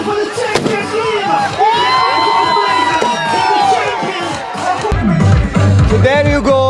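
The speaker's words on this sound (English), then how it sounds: "round of applause for the champion team" A crowd cheers for the champion team at a corporate cricket league final, loud and continuous, with shouts and whoops on top, then a heavier roar with low thumps near the end.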